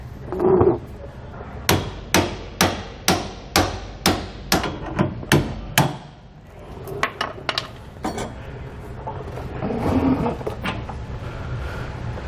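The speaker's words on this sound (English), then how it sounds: "from the bottom you can hit on the head of the bolt here" A hammer strikes the head of a leaf spring bolt to drive it out of a 2013 Dutchmen trailer's suspension, a steady series of about a dozen sharp metallic clanks followed by a few lighter, scattered knocks.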